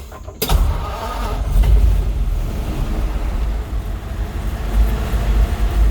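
A 1952 Ford F3 dump truck engine cranks and catches after a short pause, then settles into a loud, steady rumbling idle that continues close by.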